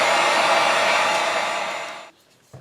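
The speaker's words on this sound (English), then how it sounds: "So we're going to get the heat gun, put some heat on it, and get it dry." A heat gun blowing steadily at close range to dry paint before stenciling, a loud continuous airy roar that fades and cuts off near the end, with a small clunk afterward.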